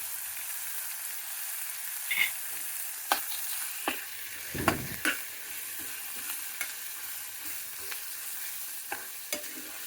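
Bitter gourd masala fries in a pan with a soft steady sizzle, broken by scattered clicks and scrapes of stirring at irregular moments, quiet and close with no speech.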